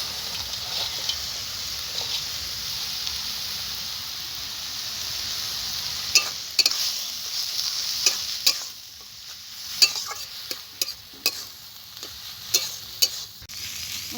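Shrimp fries in a pan with greens, giving a continuous soft sizzle and hiss, joined after a few seconds by irregular scraping and clicking stirs.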